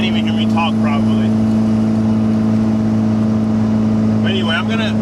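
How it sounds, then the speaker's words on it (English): A loud 1991 Toyota MR2 with a turbo swap cruises on the interstate at about 65 mph, turning roughly 3250 RPM. Its steady, droning engine hum fills the cabin throughout, with a voice talking over it at the start and end. "This thing is so loud. I'm gonna have to get an exhaust because it's freaking loud."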